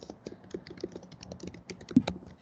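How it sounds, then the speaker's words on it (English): Fingers tap quickly and irregularly on a computer keyboard, a close, fairly quiet patter of light clicks with one louder key strike near the end and no voices. "More people are typing."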